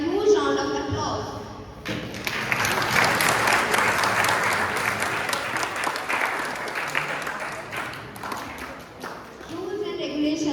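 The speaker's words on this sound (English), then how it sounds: "Let us give them a huge round of applause" Loud sustained crowd applause at a debate competition in a defence academy, a dense wash of many hands clapping for about six seconds between stretches of a voice speaking.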